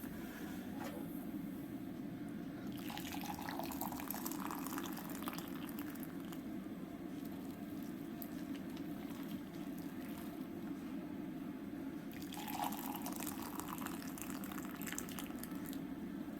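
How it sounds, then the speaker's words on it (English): Boiling water poured from a kettle into packets in a home kitchen, giving a continuous close pouring and bubbling wash that swells twice over its length. "Four cups of boiling water, 2 for each package."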